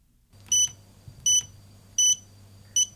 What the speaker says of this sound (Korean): 이 명령은 핫스팟을 해제하는 즉시 부저를 끕니다. 이것이 부저의 효과입니다.